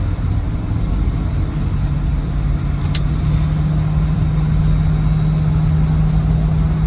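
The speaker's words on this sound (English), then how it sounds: "Really nice willing engine on this one, feels absolutely lovely" A Land Rover Defender 90 50th Anniversary with the 4.0 V8 engine and automatic gearbox, about 58,000 on the clock, idling close by with a loud, steady low drone and one brief sharp tick partway through.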